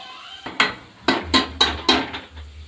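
Spoons and a ladle knock against pots and dishes while cooking in a home kitchen: about five sharp metallic clinks in an uneven rhythm, close by, with a faint low hum underneath.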